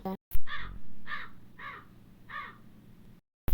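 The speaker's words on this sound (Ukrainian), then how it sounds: "Так, це ворона." A crow caws four times in a slow, evenly spaced series, loud and close, with brief clicks at the start and end.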